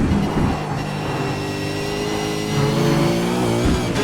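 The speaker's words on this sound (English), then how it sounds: "we've downshifted to 4th. We'll downshift to 3rd just prior to the left-hander." Race car engine at Road Atlanta holding a loud, steady drone close by, the pitch shifting as it downshifts through the gears, with brief blips near the end.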